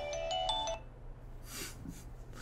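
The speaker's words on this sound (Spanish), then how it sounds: "Pinche sonido satánico que me salió del celular" A mobile phone ringtone goes off during Assassin's Creed Syndicate gameplay: a short, bright run of melodic electronic tones lasting under a second, then it cuts out, leaving quiet game ambience and faint rustling.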